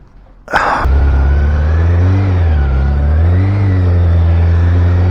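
A 1990 Honda CBR1000F motorcycle fires up loudly and pulls away, its engine settling into a strong, steady drone that swells slightly as it rides off; no talking.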